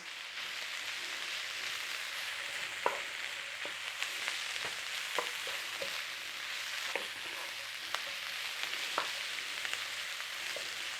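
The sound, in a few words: spinach leaves wilting and sizzling in a pan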